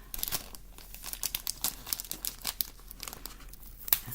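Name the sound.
opening a plastic package of rhinestones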